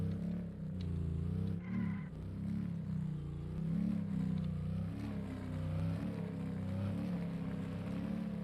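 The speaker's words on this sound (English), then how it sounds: "With that engine noise." Car engine in the video game The Ranchers drones steadily and loudly throughout, with a continuous low rumble and shifting tone as the vehicle drives.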